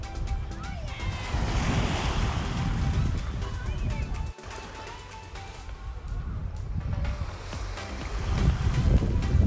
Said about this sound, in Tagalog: Ito yung dagat